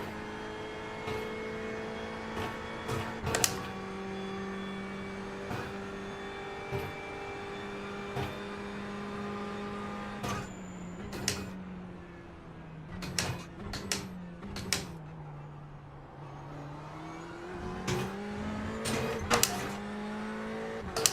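Ferrari 488 GTE race car in the iRacing sim during a qualifying lap, its engine droning steadily with rising and falling pitch, broken by sharp gear-shift clicks and brief revving spikes throughout.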